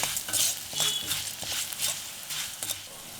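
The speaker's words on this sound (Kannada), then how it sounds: "ಈ ಕಾಳುಗಳು ಹುರಿಬೇಕಾದ್ರೆ ಆದಷ್ಟು ಲೋ ಫ್ಲೇಮ್ನಲ್ಲಿ ಇಟ್ಕೊಂಡೆ ಹುರಿಬೇಕಾಗತ್ತೆ" Coriander and cumin seeds roast on low flame in a pan, giving a steady, busy crackle and scrape of stirring with faint rhythmic knocks, close up and without any talk.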